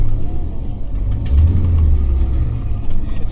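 A 1980 Dodge W200 Sno-Commander pickup fitted with a snowplow runs close by with a loud, deep engine rumble that swells slightly as it revs, with no voices.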